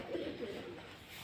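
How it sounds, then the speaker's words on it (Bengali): Pigeons coo softly and continuously on a temple veranda where they are being fed, a close, low, rolling call that runs without a break. "পায়রার ডাক শুনতে পাচ্ছেন তো?"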